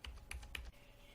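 Three quick keystrokes tap on a computer keyboard while entering a number, close and distinct, followed by quiet room hum.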